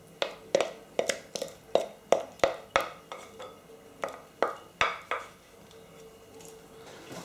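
A spoon scraping and tapping against a bowl while scooping out no-bake cheesecake mixture, a series of sharp, close clinks at an irregular beat that fade toward the end, with no voices.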